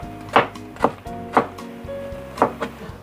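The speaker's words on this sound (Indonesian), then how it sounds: "bawang merah dan bawang putih yang cukup diiris tipis seperti ini" A knife thinly slices shallots and garlic on a wooden board, giving five sharp, evenly spaced knocks over steady background music.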